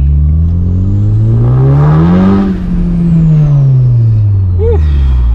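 A Honda CU2 turbo engine on a dyno revs up in one steady sweep, its loud droning tone climbing, peaking, then easing back down as the revs fall, with a brief chirp near the end.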